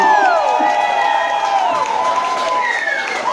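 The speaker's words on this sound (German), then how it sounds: "Ein großer Applaus für meine Eltern, Mama und Papa" A concert-hall audience at a band's homecoming Christmas show claps and cheers loudly and steadily, with whoops and high shouted voices rising over the dense crowd noise throughout.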